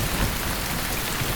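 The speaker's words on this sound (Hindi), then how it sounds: "मैंने कहा था ना कि बारिश होगी।" Rain pours down steadily in a film scene, a dense, even hiss of falling water with no break across the short stretch.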